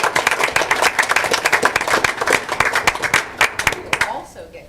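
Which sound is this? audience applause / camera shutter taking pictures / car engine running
audience applause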